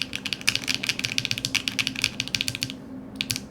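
Typing on a brass- and copper-weighted DK1-TKL mechanical keyboard with cream latte switches and DCS keycaps, a quick run of close, clacky keystrokes in an uneven rhythm, with a short pause near the end and no talk.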